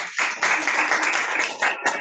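An audience at an educators' story lounge event applauds for Sandra, a dense, steady wash of clapping that fills the whole couple of seconds without a break.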